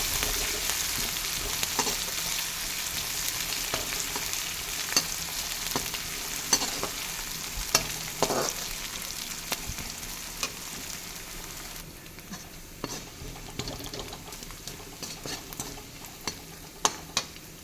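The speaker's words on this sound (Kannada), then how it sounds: "1-2 ಮಿನಿಟ್ಸು ಆಯಿಲಲ್ಲಿ ಫ್ರೈ ಮಾಡಬೇಕು." Ginger and garlic sizzle steadily in hot oil for mint rice, a continuous close frying hiss with occasional clicks of a spoon stirring the pan.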